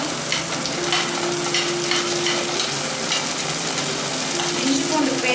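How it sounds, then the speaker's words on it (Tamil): Onions sizzle steadily in a pan over a low flame, a continuous close frying hiss with a faint low hum and occasional stirring scrapes, no voices. "லோ ஃப்ளேமில் வச்சு நல்லா வதக்குங்க"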